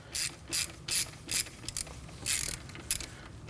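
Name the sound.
ratchet with long extension loosening transmission cap, Kia Optima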